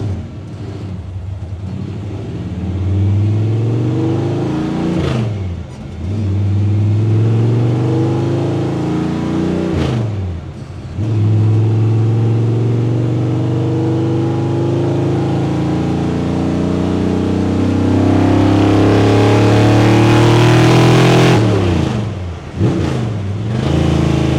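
A 1964 Dodge D100 pickup with a 528ci Barton Hemi V8 roars through repeated hard accelerations, its deep engine note climbing then dropping with each gear change, loud and close over about twenty-four seconds, no talking.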